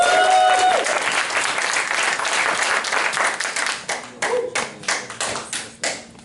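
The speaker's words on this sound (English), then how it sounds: "with a really loud round of applause and a really, really warm welcome, Mr. Byron Nelson." Loud audience applause welcomes a speaker onstage at a business presentation, dense clapping that thins into scattered individual claps toward the end.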